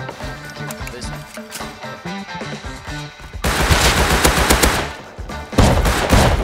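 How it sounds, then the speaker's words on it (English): In the video game Rust, gunfire crackles in rapid bursts, followed by loud, harsh shotgun-trap blasts that fill the later part with dense noise. "I leapt inside right into the firing line of a shotgun trap"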